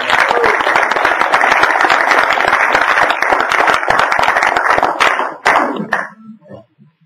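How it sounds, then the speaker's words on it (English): A room at a post-fight boxing press conference applauds a champion, loud close clapping from a modest crowd that runs strongly for several seconds and then cuts off, leaving brief quiet sounds. "We have a round of applause actually for a great champion."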